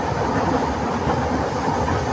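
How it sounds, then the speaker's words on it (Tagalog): A steady rumbling roar of a passing LRT light rail train with a faint hiss, continuous and fairly loud, no voices. "Yung LRT."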